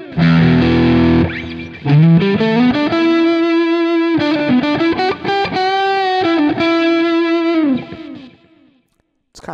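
Electric guitar through amp simulator software with delay, a loud strummed burst followed by sustained, bending notes that trail off in echoing repeats before fading to silence.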